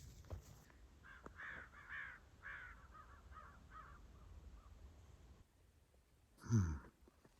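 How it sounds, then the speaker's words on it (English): Several crows caw outdoors in winter, a string of rough calls at moderate distance that fades off, then a close breath or sigh near the end. "I wonder where the crows are going."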